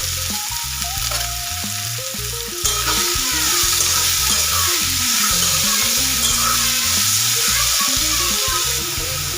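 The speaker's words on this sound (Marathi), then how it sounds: "आणि आपण हरभऱ्याची भाजी बारीक करून घेतली होती मिक्सरमध्ये, ती त्याच्यामध्ये घालून आपल्याला अगोदर परतून घ्यायची" Ground chickpea greens sautéing in a pan with chili-garlic paste, a steady close sizzle and crackle with spoon stirring and scraping throughout, no voices.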